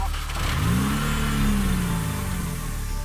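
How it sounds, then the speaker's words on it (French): A car engine, freshly repaired and just restarted, runs steadily up close, with a rising and falling rev as it is blipped, then settles back toward a smooth idle, loud and continuous with no talking. "On décide de remettre en route le moteur pour voir comment il tourne avec tous les éléments"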